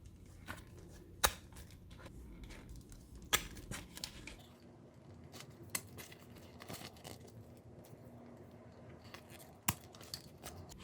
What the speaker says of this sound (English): So then we use our hole punch and try to cut a hole.